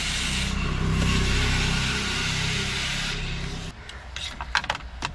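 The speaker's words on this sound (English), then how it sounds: "Now I will apply foam to the ducts that I have shown in a previous car also." Foam sprayed into the AC ducts of a Tata Altroz or Punch car gives a steady, close hiss for about three and a half seconds, then gives way to scattered rustling and handling clicks.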